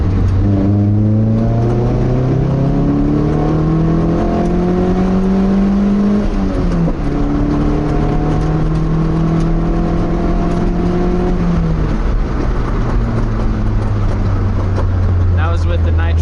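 A Nissan S13 without nitrous pulls hard in second gear from 3,000 RPM, its loud engine climbing in pitch, briefly dropping at a shift, then climbing again before easing off near the end.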